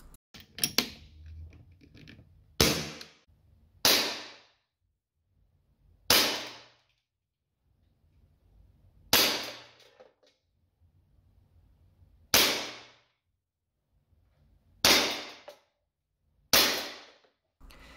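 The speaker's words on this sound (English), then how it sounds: "the shooting will be done inside so we don't have any crosswinds and I will be shooting from 10 meters away" A CO2-powered Smith & Wesson airgun revolver fired indoors from a vise at a target 10 meters away, eight sharp, snappy pops spaced irregularly a second or more apart, each with a short decay, heard close with little else between shots.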